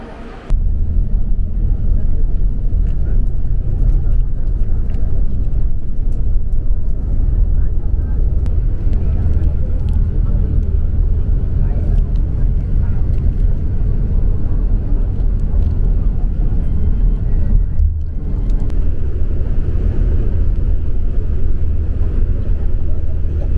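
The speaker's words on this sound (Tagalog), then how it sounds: "Sakay na tayo ng bus" Steady low engine drone and road rumble from inside a cross-border shuttle bus travelling from Hong Kong to Macau, loud and continuous, with faint voices talking underneath.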